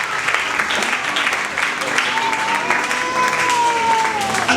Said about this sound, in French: Est-ce que tu peux acclamer pour la gloire?